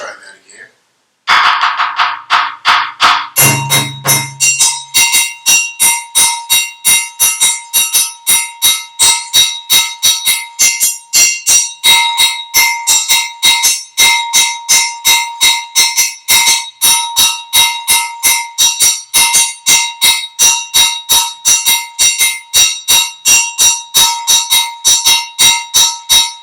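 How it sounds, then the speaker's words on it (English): A bell part for the West African rhythm Djan is played in a steady, fast, loud ringing pattern of metallic strikes that continues evenly for the whole stretch after a few opening hits. "Now, the bell part, let's try that again."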